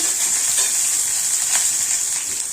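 Mustard seeds, cumin, chillies and curry leaves crackle and sizzle steadily in hot oil for a South Indian tempering, a continuous bright spitting hiss close up with no voices.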